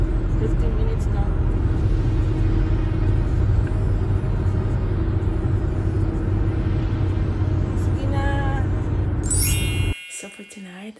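A car drives along a road, heard from inside the cabin as a steady low road rumble that lasts about ten seconds and then cuts off abruptly.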